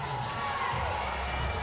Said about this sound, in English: Got a decent crowd here in Hayes Gymnasium.